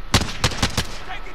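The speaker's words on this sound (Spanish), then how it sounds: "Disparos." Gunfire in Call of Duty: Modern Warfare, four sharp, loud shots in quick irregular succession, then a brief quieter tail as game ambience continues.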